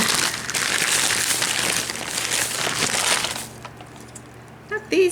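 A plastic wrapper crinkles as it is pulled off a small Dollar Tree candle, loud and busy for several seconds, then quieter with a couple of brief rustles at the end.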